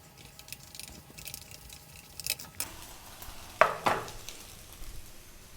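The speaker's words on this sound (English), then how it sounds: "I'm going to scramble that, then I'm going to put it into the rice, give it a mix" Egg seasoned with oyster sauce scrambled in a hot pan, then stirred into rice for Chinese egg fried rice: soft sizzling with a few scraping stirs and two sharp clacks of utensil on pan near the middle, no talking.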